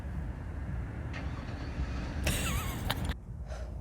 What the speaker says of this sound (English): We're gonna need to cut that car sound.